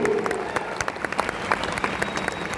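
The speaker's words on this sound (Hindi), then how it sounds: "भाई तालियां इस बात पर" An audience at a corporate event claps together, a dense, steady patter of many hands that carries on through the whole stretch at moderate loudness.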